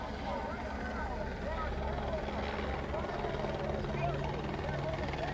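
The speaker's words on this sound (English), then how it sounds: "There's like 5 helicopters now." Several helicopters circle overhead during a street protest between BLM demonstrators and patriots, their steady rotor drone filling the air under nearby crowd noise and voices.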